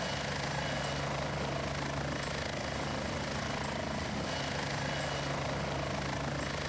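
Steady loud roar of a military chopper's engine and rotors in the Heliborne combat game, with faint regular blade beats running unbroken under the noise.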